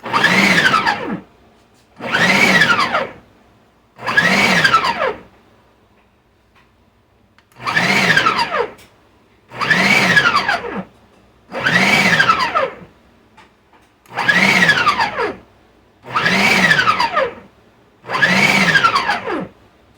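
A countertop blender chops Colombian seasoning paste ingredients in nine loud, whirring bursts of about a second and a half each, separated by short silences, close to the listener.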